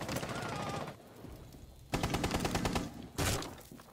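Rapid automatic gunfire in the Rainbow Six Siege shooter game, loud sustained bursts followed by a quieter gap and then two more close bursts, with no talking over them.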